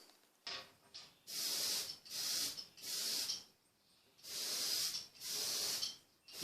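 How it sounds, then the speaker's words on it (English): An automotive touch-up spray gun set to 22 psi hisses in five steady bursts while finishing a fiddle, each burst lasting about a second, with short quiet pauses between them, close and fairly loud. "Just using my automotive touch-up gun. Got the pressure set to 22 psi."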